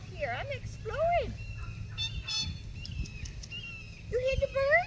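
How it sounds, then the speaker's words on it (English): Birds calling outdoors, a series of loud gobbling, turkey-like bursts in quick clusters, near and clear, with a voice speaking between and under them. "You hear the birds? We hear the birds?"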